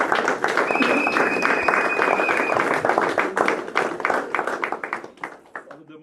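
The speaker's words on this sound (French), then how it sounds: "J'invite le pasteur Prosper et nous qui sommes ici, applaudissons quand le pasteur Prosper arrive." A crowd at a church graduation ceremony claps steadily and warmly, with voices murmuring underneath, before the applause thins out and fades near the end.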